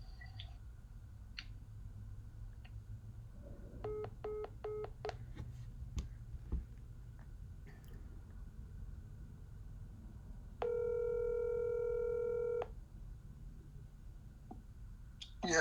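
Telephone keypad tones beep in short bursts during a call, followed by a steady two-second ringback tone over quiet line hiss, with faint voices in the background.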